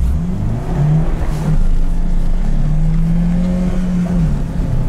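A 4x4 vehicle's engine holds a strong, steady roar close by during a drag race, revving near 6000 rpm, loud and continuous with slight pitch wavers and no talk over it.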